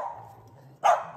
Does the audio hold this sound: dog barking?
yes